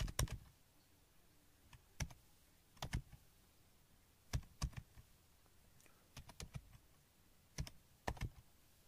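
Keys on a computer keyboard are tapped in short, irregular bursts of sharp clicks as data is entered. The quiet pauses between them sound close and isolated, with no talking.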